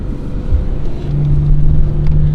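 A Porsche Panamera 4S with a race chip accelerates in second gear in manual sport mode onto a highway, its engine drone rising steadily in pitch, heard from inside the cabin with road and wind noise.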